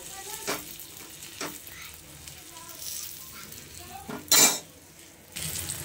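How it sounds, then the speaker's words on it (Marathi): Eggplant slices shallow-frying in oil in a pan, a soft steady sizzle broken by several sharp stirring and scraping clatters of utensil against pan. Nobody speaks. "दोन्ही बाजूने आपल्याला छान असं फ्राय करून घ्यायचंय"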